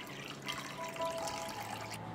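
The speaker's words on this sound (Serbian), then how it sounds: "Toplu vodu sipam u činiju." Warm water at about 40 degrees is poured into a bowl to make a wood-ash solution, a faint, steady trickle and splash heard alone at low volume.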